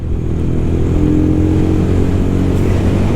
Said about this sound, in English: I'm just leaning into the bend, put my knee down on a Scrambler 411